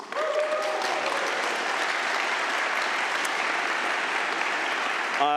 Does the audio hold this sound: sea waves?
no